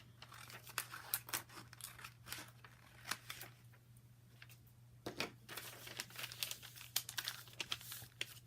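Scissors snip and cut down the front of a paper bag in a craft project, with close crisp cuts and crinkling paper in an irregular run of quiet strokes.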